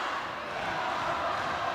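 Italian fans at a Poland vs Italy CEV U20 Volleyball European Championship match roar in a steady, dense crowd noise that fills the arena without letting up. The sound is sustained and fairly loud, with no distinct claps or pauses.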